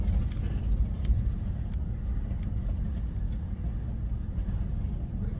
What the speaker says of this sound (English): What I'm trying to do now is let this van roll, and I'm not giving it any gas.